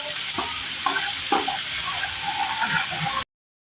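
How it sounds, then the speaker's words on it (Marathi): Chopped ginger, chili and garlic hit hot oil in a pot and sizzle loudly and steadily, with a few clinks of stirring, before cutting off abruptly. "त्याच्यामध्ये आपण आलं, मिरची आणि लसूण जी बारीक करून घेतले ती टाकून घ्यायची."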